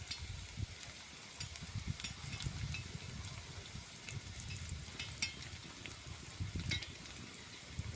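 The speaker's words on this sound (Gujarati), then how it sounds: "તો મિત્રો ડુંગળી નાખીને આપણે થોડી વાર એને હલાવશું" Chopped onion frying and being stirred in a hot pan for a milky aloo sev curry, a steady close sizzle with repeated scraping stirs and soft crackles throughout.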